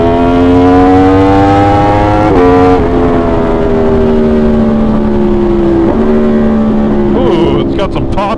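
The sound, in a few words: Aprilia motorcycle engine revving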